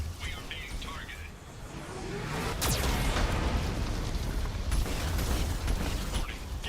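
A heavy booming cannon blast in a video game cuts through continuous low rumbling and mechanical noise, followed by lingering crackles and debris-like rattling.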